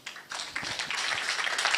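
Applause from an audience at a county best-practice award forum swells quickly into steady, dense clapping from a crowd of people, close and sustained over a short burst.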